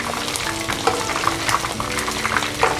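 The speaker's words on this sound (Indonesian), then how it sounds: "saya akan goreng berikutnya ayamnya sampai habis bahannya ya" Chicken pieces frying in hot oil for Indonesian ayam goreng oseng bawang, a steady close sizzle with crackling pops and bubbling, continuous and fairly loud with no voices.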